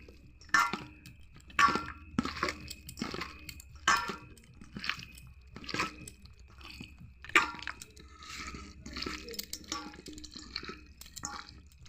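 Chicken pieces being mixed by hand with gram flour and a raw egg in a bowl, giving wet squelching, sticky squishes and soft slaps in a steady rhythm, close and fairly quiet, with no talking.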